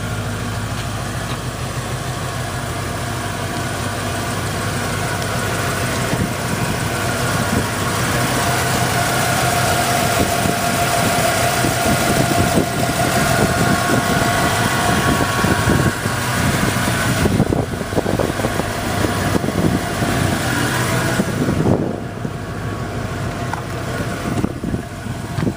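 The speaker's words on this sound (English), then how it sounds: "We've had this truck running now for about 30 minutes" A 1994 Ford F-150 XLT 4x4 idles after half an hour of running, a continuous low engine rumble heard close up for the whole stretch, with shifting background noise and no talk.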